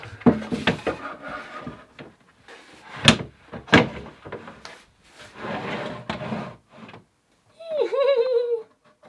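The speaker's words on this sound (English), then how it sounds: "I did some shaving and I adjusted one of these drawers a little bit and it should fit now" A wooden drawer, shaved down and adjusted to fit, is worked in and pushed shut. Several close wooden knocks and sliding rubs come in uneven bursts, followed by a brief voice at the end.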